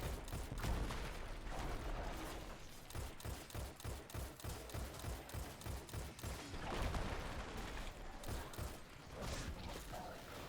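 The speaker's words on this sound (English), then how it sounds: "You can see it's shooting rockets already." A Thresher in the Destiny 2 Behemoth Battleground Grandmaster Nightfall firing rockets, heard as a dense rapid volley of thudding blasts and mechanical clatter, loud and continuous with pulsing bursts throughout.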